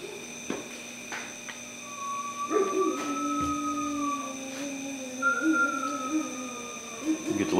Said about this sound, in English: You get to listen to the dogs go nuts